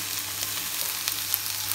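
Courgettes sizzle and crackle in a hot pan while being stirred, a soft, continuous frying hiss with small pops, heard close without voices.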